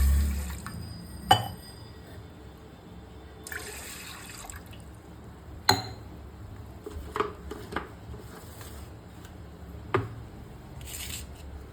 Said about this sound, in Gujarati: એમાં આપણે 2 ગ્લાસ પાણી ઉમેરી દઈશું.